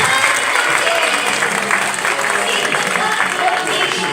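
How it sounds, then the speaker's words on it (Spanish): A loud applause sound effect plays at an awards gala, a continuous wash of crowd clapping and cheering that stays dense and steady throughout. "No, le ponemos aplausos."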